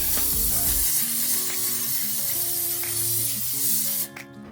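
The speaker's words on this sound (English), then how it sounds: "go ahead and spray a generous layer of your cooking oil spray on top of the mushrooms" Cooking oil spray hisses steadily onto mushrooms spread on a baking sheet, a loud, close continuous spray lasting about four seconds before cutting off abruptly.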